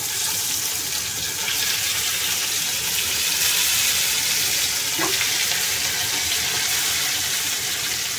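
Steady, dense sizzling of barramundi and red snapper, marinated in chili and salt, frying in hot oil, continuous and close, with a brief clink partway through.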